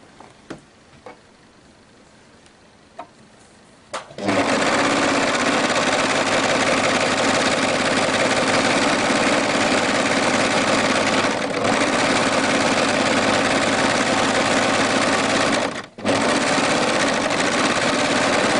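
A sewing machine runs steadily for about eleven seconds, stitching a side seam on a fabric onion skirt, with a loud continuous whir after a few quiet clicks and a brief pause near the end.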